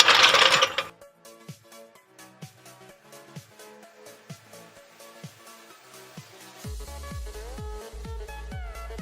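Metal bolts and small parts being handled and fitted while mounting a Toyota Tacoma steering knuckle to the lower control arm: a burst of noise at the start, then repeated sharp metallic clinks and taps at an irregular rhythm, close and fairly quiet, with no talk.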